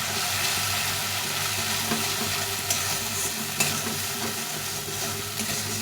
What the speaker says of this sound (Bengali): লঙ্কা গুঁড়ো দিয়ে দেখো ভালো করে কষিয়ে দিতে হবে